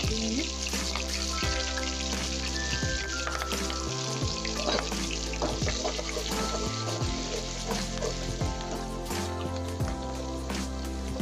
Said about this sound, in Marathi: आपले सगळे सोयाबीन मी तळून घेतले